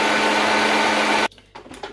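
An electric mixer creams butter and sugar for a coconut cake with a steady loud whir that cuts off suddenly, followed by a few soft scraping and knocking sounds.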